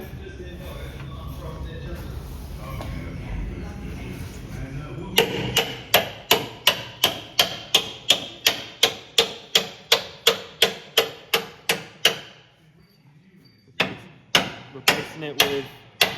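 A hammer drives a punch to knock out a stuck pin on a 6R250 transmission job: a long run of sharp, evenly spaced metallic strikes, a brief pause, then more blows, after muffled shop talk and handling noise.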